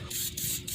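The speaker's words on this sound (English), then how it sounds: "I'm gonna go ahead and spray this down" Short hiss of rust treatment sprayed onto a rusted car floor, close and steady with slight pulsing across under a second.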